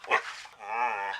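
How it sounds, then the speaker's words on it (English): A dog barks once at close range, then lets out a drawn-out whining yelp, with no talk over it. "What was that? That's the dog."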